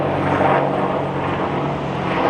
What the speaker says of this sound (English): I think that is an air ambulance as well.